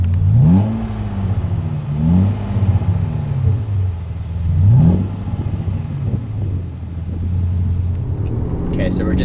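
A 2001 BMW 750iL Dinan-7 accelerates on the road, its engine note rising in repeated sweeps as it pulls through gears, close and steady with a constant rumble underneath.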